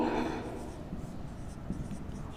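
Chalk or marker scratching and tapping continuously as an example sentence is written on a classroom board during an English lesson, with no speech heard.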